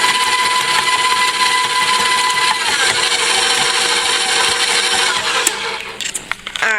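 A stand mixer fitted with a paddle churns homemade dog treat dough. Its loud, continuous motor drone carries a steady whine, and near the end it settles into irregular clunks as it winds down, with no talking.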